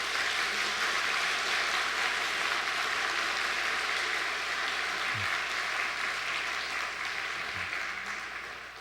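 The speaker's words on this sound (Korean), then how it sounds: "박수해도 괜찮습니다" A church congregation gives sustained applause at an ordination ceremony in a Korean Presbyterian church, a steady wash of clapping from many hands that gradually fades toward the end.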